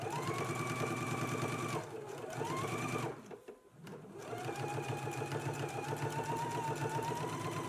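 Domestic sewing machine understitching a collar seam, running in loud steady bursts with a short pause and restarts, alone without talk.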